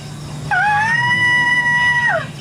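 A small deer or pig in a video game lets out a single loud, drawn-out tonal cry, holding steady for about a second and a half before dropping away, over a low background hum.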